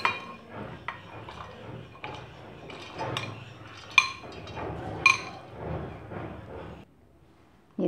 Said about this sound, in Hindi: और अब इसमें हम सारे गले हुए बाकी के ड्राई फ्रूट्स भी डाल देंगे।